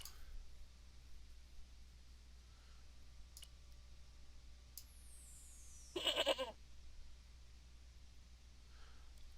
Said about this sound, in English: It's made a goat sound.